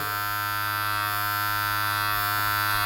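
Cheap electric hair clippers bought from China buzz continuously and loudly close up while cutting a taper fade, a steady motor hum with faint shifts in tone as the blade moves through hair; no one speaks.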